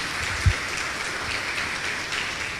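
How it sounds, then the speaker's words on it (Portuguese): A church congregation at a missions service claps together in sustained, steady applause, a dense, even patter of many hands with no voices over it. "quero agradecer a Deus com uma salva de palmas"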